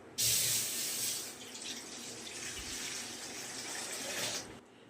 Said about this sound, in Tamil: தேவையான தண்ணி ஊற்றிக்கலாம்.